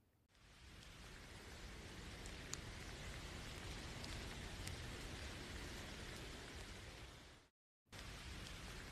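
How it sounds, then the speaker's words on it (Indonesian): Steady rain pours throughout as a sound effect in a short story reading set on a November night, broad and even, briefly dropping to silence before resuming. "Tiba-tiba hujan melanda."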